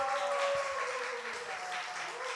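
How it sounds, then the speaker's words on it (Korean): Congregation clapping during a Wednesday church service, a steady dense patter of applause that holds for the whole stretch, with sustained tones ringing beneath it. "박수 한번 쳐주세요"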